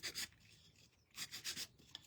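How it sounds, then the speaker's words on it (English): Folded sandpaper rubbing wax off a small painted block, heard as a few short, close scratchy strokes in bursts with brief pauses between them. "if you get enough wax in there, you can kind of sand it off just like you see me doing right here"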